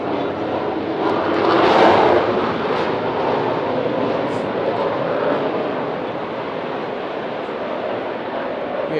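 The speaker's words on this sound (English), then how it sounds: "Lots of Jets circling tonight." Jets circle overhead on an evening above an outdoor youth soccer match, making a broad, distant roar that swells to a peak early on, then lingers as a steady drone.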